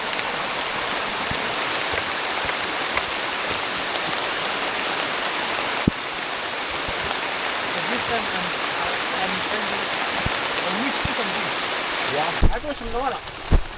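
Heavy rain pours down steadily, a dense hiss close by, with brief rumbling near the end and a voice coming in during the last seconds.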